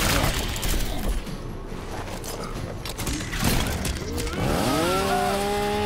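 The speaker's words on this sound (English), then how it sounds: "Yeah, chainsaws." Chainsaws in the fighting video game Mortal Kombat X grind and clatter amid crashing impact noises. A rising, revving whine stands out near the end, and the whole passage stays loud and dense.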